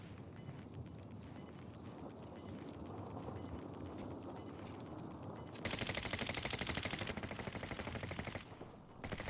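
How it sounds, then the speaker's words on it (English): Rapid automatic gunfire in a battle-royale style video game, dense bursts of shots and chatter, loudest in a sustained volley near the end, over faint game ambience. "you're close enough. You can shoot the enemy."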